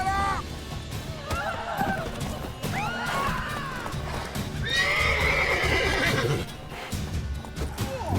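Horses whinny and neigh repeatedly over a busy din of clopping hooves in the video game The Witcher 3: Wild Hunt, with honking birdlike calls mixed in; loud and close throughout.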